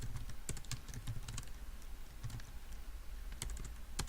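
Typing on a computer keyboard, a quick, irregular run of close key clicks and taps with brief pauses, quiet and without talk.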